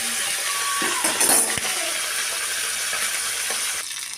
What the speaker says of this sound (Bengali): এইভাবে মাছগুলোকে উল্টো পাল্টে ভেজে নিতে হবে